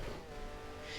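A 1972 Formula One race car engine in the F1 Challenge racing game, revving steadily and loud throughout a short burst, with a sustained buzzing drone and no talk over it.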